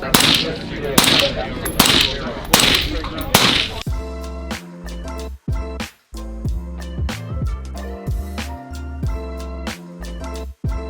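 Rapid gunfire from other shooters at an outdoor shooting range: loud, dense bursts at the start, then a steady stream of sharp individual shots and quick strings cracking nearby throughout.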